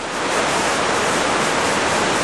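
Lepreau Falls, a cliff waterfall of roughly 40 to 50 feet, gives a steady, dense rushing roar that holds constant without breaks, with no voices over it.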